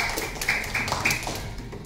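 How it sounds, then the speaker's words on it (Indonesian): A few children in a classroom clap for a classmate, with sparse, light handclaps spaced irregularly and coming through softly at a moderate distance. "Tepuk tangan buat Ajeng sudah mencoba menjawab"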